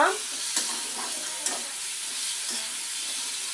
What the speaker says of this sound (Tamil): இதை நல்லா பொறுமையாக வதக்கி விட்டு பொறுமையாக செய்யுங்க